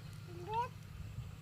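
A cat in a rural rice-field hut setting gives a single short, fairly faint meow midway through, over a steady low background hum.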